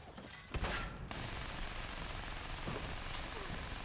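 Quad double barrel shotgun blasts in the video game Fallout 76, a sharp burst near the start followed by dense continuous fire and rumble that fills the whole stretch, with no voices.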